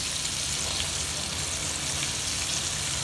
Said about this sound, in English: After it's fully coated, put in a hot oil